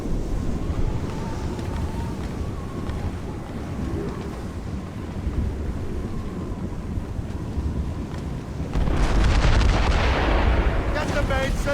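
Naval mortar and cannon fire during a ship ambush in Assassin's Creed Rogue, heavy booms mixed with wind and sea noise, building to a louder barrage near the end; no voices.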